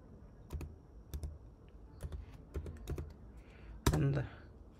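Fingers typing on a computer keyboard while entering an IP address and port number, heard as sparse, close key clicks in short irregular bursts, ending with one louder clack.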